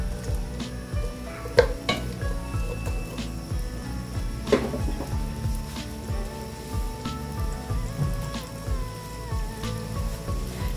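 Grated ginger, a two-inch piece, stirred into a cooking pot for a chicken and cabbage curry: scattered utensil clinks and scrapes against the pot over a faint, rain-like background hiss, with no talking.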